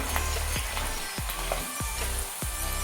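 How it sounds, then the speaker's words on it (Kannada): Onions fry in hot oil in a pan over a medium flame, giving a loud, steady sizzle with a few soft, regular stirring knocks. "ಇವಾಗ ಕಾದಿದೆ, ಈರುಳ್ಳಿಯನ್ನು ಹಾಕ್ಕೊಂಡು ಫ್ರೈ ಮಾಡ್ಕೊಳ್ಳೋಣ."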